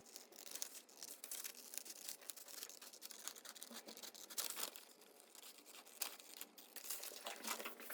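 Very faint scraping and rasping as scissors or a blade cut leather for a DIY notebook cover, a continuous, close, quiet crackle of cutting strokes.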